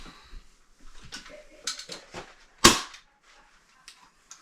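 The lever of a rebuilt Daisy Model 94 BB gun is worked with small metallic clicks and scrapes, ending in one sharp, loud snap as it cocks, close up in a quiet room.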